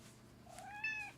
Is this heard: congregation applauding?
no